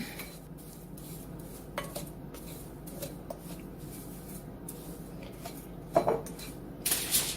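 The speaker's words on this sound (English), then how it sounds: "let's mix that all up like that" Meatball ingredients, including pepper, are stirred together in a bowl, making soft scraping and clinking of a utensil against the dish, close and quiet, with a few sharper knocks near the end.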